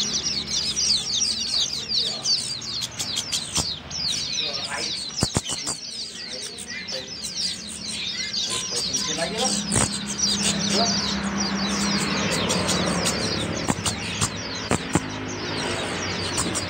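Songbirds at a bird market kiosk in Nganjuk chirp and trill constantly, many overlapping calls close by, with sharp clicks and the low hum of a passing engine beneath.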